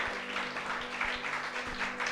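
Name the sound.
congregation applauding in church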